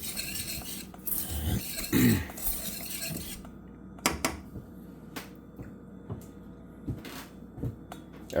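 A spoon scrapes and knocks against a pan while clumping sugar is stirred for caramel, a few soft strokes followed by sparse light taps near the mic, with no talking.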